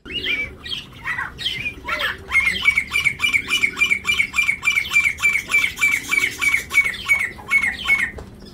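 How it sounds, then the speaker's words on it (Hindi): A small partridge (titar) kept among pet finches calls repeatedly from close by: a run of rhythmic, evenly spaced squawking notes lasting several seconds, with no talk over it. "सुनी तितर की बोली"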